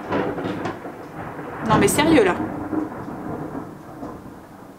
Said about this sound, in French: J'ai l'impression qu'il y a eu un éclair.